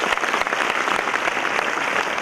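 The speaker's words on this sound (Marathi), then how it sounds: "त्यांच्यासाठी एकदा जोरदार टाळ्या होऊन जाऊया" Sustained audience applause for guests at a motivational event featuring MPSC toppers, a dense, even wash of many hands clapping that holds steady from start to finish.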